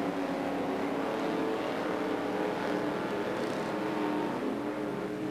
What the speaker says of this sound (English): 12 laps of stock car action